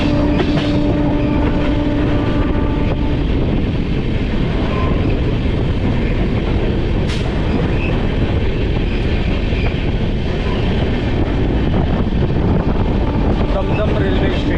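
An Amrit Bharat Express train runs in parallel with a local train and overtakes it, giving a steady, loud rumble of rail wagons with faint clickety-clack through the whole stretch and no talking.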